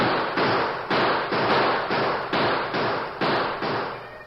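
Gunfire sound effect in a radio western drama, eight evenly spaced loud bursts about half a second apart, each a sharp crack with a decaying hiss, close and alone without voices.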